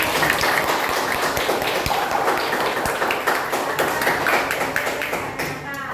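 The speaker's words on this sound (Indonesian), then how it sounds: "Oke, tepuk tangan." A classroom of children clap together in a quick, dense burst of applause that stays loud throughout, then starts to thin at the end.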